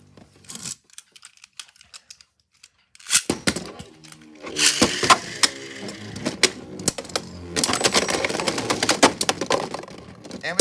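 Beyblade tops, Valtryek V2 and Victory Valkyrie, are launched into a plastic stadium and clash, giving dense clattering, grinding and rapid sharp clicks. The sound starts after a quiet pause and builds to loud, busy collisions close by.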